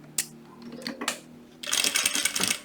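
A home sewing machine stitching a straight seam on striped fabric: a few sharp clicks and taps from the machine, then a loud, fast rattling run of stitching near the end.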